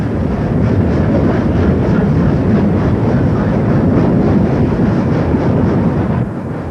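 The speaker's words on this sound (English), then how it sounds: "the first train to steam from the Pacific Ocean to the Indian Ocean set out" A steam train departs Sydney on the first through run from the Pacific to the Indian Ocean in August 1970, its engine and wagons giving a loud, steady rumbling roar that stays constant, then eases slightly at the end.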